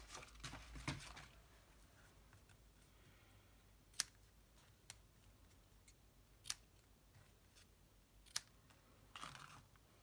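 Snips cut paper for a craft gift box for note cards, giving a few sharp, isolated snips spaced several seconds apart in a quiet room, with some light handling rustle at the start.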